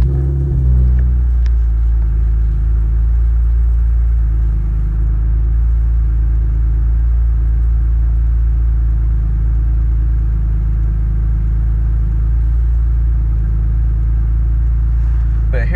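A car engine runs at a steady, loud, low rumble close by for the whole stretch. A brief disturbance near the start may be the engine catching.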